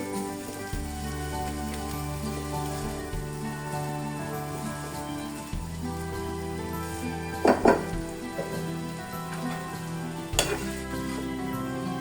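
Eggs being scrambled and fried in a pan for noodles give a soft steady sizzle with a few sharp utensil clinks, heard over a sustained tonal background hum.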